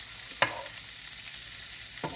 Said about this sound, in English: just going to cook up this cabbage